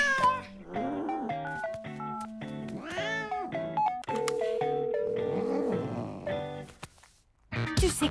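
A cartoon cat in a French children's animated series meows in a run of clear, drawn-out, pitch-bending cries, close and prominent, with short pauses between them and a brief burst of other sound at the end.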